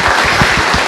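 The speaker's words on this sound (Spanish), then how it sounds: "Un doble aplauso para él." Audience applause at a parenting talk, a dense steady wash of many hands clapping, loud and continuous for under a second.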